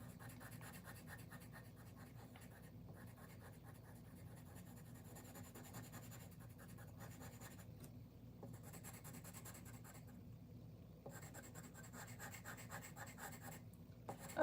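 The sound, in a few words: Montee pencil drawing a portrait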